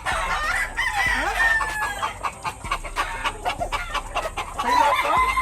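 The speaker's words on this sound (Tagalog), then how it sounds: "ang daming manok ni Butchie." Chickens clucking and a rooster crowing on a Philippine farm, a dense busy chorus of close, loud clucks and squawks with a crow rising through it, steady throughout.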